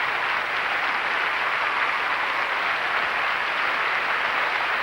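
A large arena crowd applauds a figure skating performance with steady, dense clapping that holds at an even level throughout, with no voices above it.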